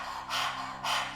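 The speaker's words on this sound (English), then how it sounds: "sticking the tongue out, panting like a dog" A person pants with the tongue out like a dog during a kundalini kriya breathing exercise, two quick breathy bursts heard close and soft, without speech.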